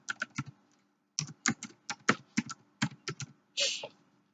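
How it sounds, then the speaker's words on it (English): Fingers tapping out text on a computer keyboard, close and clear, in two quick bursts of keystrokes with a short pause between them, ending on a longer, heavier key press. "if you type in your text again"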